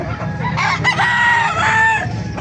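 A Kanawayan gamefowl rooster crows loudly and close by at a roadside market, a full drawn-out cock-a-doodle-doo with other fowl clucking and stirring in the background.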